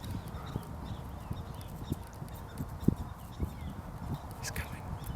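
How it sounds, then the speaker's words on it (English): Mini horses walking with small hooves, giving an irregular clip-clop of close hoofbeats over a soft outdoor background. "These are mini horses, and they're smaller than regular horses."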